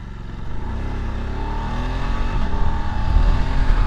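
Voge D900SX motorcycle engine accelerating on an open road on a ride, a steady loud rising drone with wind rumble heard from the rider's position, no talk.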